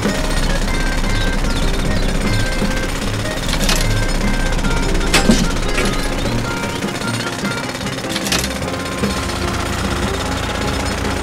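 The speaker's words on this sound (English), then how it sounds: "Now, let's see how the pencil drill works" Loud, continuous rapid hammering of a powered drill, a harsh rattling drone with occasional sharper bangs, sustained throughout.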